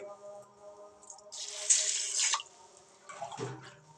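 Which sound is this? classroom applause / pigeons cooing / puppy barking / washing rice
washing rice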